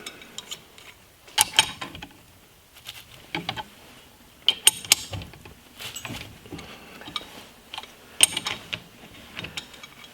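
A crescent wrench works a bolt loose on a horizontal-shaft Briggs & Stratton engine being torn down, heard as sparse, irregular close metallic clicks and scrapes in short bursts with quiet gaps between.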